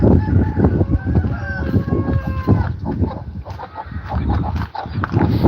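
Layer hens cluck and a rooster crows in a busy coop, with dense overlapping bird calls close by and a little background noise.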